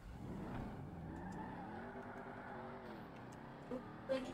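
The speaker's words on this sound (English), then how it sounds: "In my loud car." A car engine from the Warzone video game hums faintly in a low steady drone with a slowly shifting pitch, a few brief clicks near the end, quiet and with no talk.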